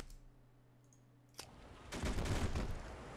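In Men of War: Assault Squad 2, one sharp crack is followed by a dense, rapid rattle of machine gun fire that rises over a quiet background and holds steady for about a second.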